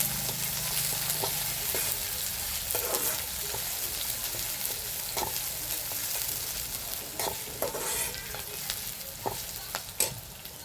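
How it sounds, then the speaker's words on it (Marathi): Sliced onion fries in a pan as a garlicky masala okra dish is started, giving a constant close hiss of sizzling oil with repeated clicks and scrapes of a spatula stirring through it. "कांदा छान असा भाजून घ्यायचा।"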